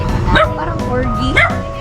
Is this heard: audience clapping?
no